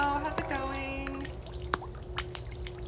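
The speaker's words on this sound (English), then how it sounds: "I'm getting dripped on by" Rainwater falls in a few sparse, distinct drips beside a hot tub on a rainy day, each one a small close plink, with soft background murmur and a faint steady tone underneath.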